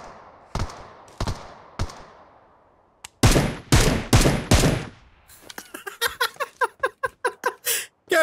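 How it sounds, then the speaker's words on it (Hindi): Gunfire rings out in the battle royale game BGMI: a few spaced single shots, a short burst of heavy reports, then a rapid run of quieter, distant-sounding cracks, all close and sharp with no talk. "यहाँ देखो बॉट जैसे कोई फायर कर रहा है मगर बॉट है नहीं"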